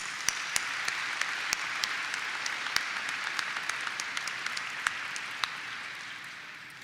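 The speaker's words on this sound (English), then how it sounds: "Let's give them a round of applause" Thin, scattered applause at a 2021 commencement ceremony: individual sharp claps stand out over a steady hall ambience, continuing for several seconds and slowly fading.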